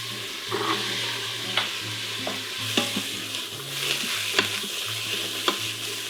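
Chopped onions, celery and carrots sauté in a pan with a steady soft sizzle, under a low hum, with periodic spoon scrapes and taps as the vegetables are stirred.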